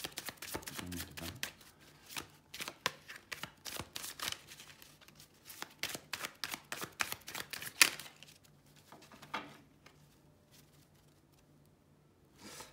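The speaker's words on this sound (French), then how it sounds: "on va faire le tirage en croix celtique avec le tarot." Tarot cards are shuffled in quick, crisp riffling and slapping bursts, close and fairly quiet, with short pauses between rounds and no talking.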